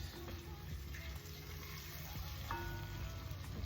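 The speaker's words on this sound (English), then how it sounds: "we'll let that saute for a few minutes before we add the next ingredient" Ingredients sauté in a pot for a one-pot corned beef, rice and peas meal, giving a soft, steady sizzle with faint crackles, close but quiet, over a low background rumble.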